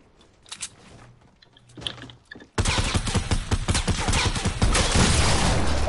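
Turret gunfire in a video game: after a couple of seconds of faint, sparse sounds, a loud, continuous automatic burst of rapid shots begins and keeps firing to the end.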